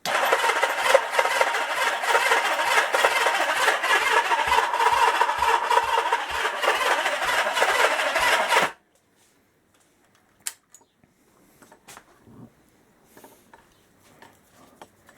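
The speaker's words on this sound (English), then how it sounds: "well, at least it's turning over" A 1977 Kawasaki KZ650 B1 motorcycle engine cranks noisily on its starter motor for several seconds in a rapid churning rhythm, then stops abruptly, leaving quiet with a few small clicks.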